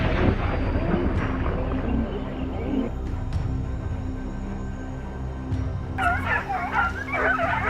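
Hunting dogs bark and yip repeatedly in a snowy mountain forest during a wild boar hunt, a busy chorus of overlapping calls near and far, with sharper, closer yelping bursts toward the end.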